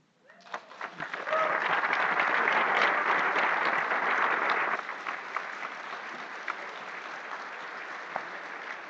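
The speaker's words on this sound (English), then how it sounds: "Now you can clap." A crowd at a panel discussion bursts into applause, loud and dense at first, then easing into lighter, steady clapping that continues to the end.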